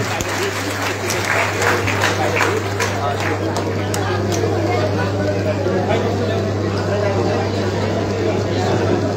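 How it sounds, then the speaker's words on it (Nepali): A large crowd gathered at a Nepali political party joining event claps steadily to welcome new members, the dense applause sustained and even throughout, with a constant low hum underneath. "यहाँहरू सम्पूर्ण आदरणीय न्यायप्रेमी जनसमुदायले तालीबाट स्वागत गरिदिनु हुन हार्दिक अनुरोध गर्छु"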